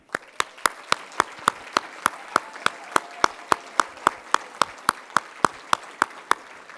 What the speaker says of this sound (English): let's all of us give a round of applause to the founder of the American Brain Tumor Association